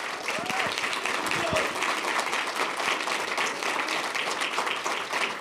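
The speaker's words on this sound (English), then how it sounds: "Let's give them a round of applause, please" A school board meeting audience applauds scholarship recipients with dense, steady clapping that fills the room at an even level, and a voice briefly rises within it.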